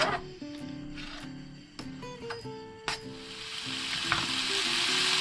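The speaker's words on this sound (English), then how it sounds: "we're going to fry this off so it goes nice and crispy" Bacon frying in a pan for spaghetti bolognese, a steady close sizzle with occasional stirring scrapes, under a tonal musical background.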